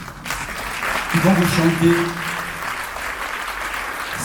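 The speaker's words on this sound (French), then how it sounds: "sous vos applaudissements" Concert audience applauding to welcome a duo at the Mégisserie, clapping under a voice announcing in French, with a brief held musical tone in the middle.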